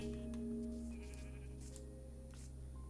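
A sheep bleats in the Minecraft video game, a faint sustained call heard alone over a steady low background hum.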